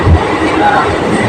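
A train runs at speed with a loud, continuous rumble and rattle from inside the carriage, a dense roar lasting the whole moment.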